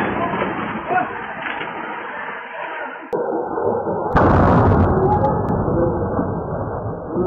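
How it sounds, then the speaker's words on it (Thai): A large truck tire explodes while being inflated at a vehicle repair garage, a sudden heavy boom that breaks into an otherwise muffled stretch of background sound in an edited news segment. "เติมลมยางแล้วก็ยางระเบิดอีกแล้วนะคะ"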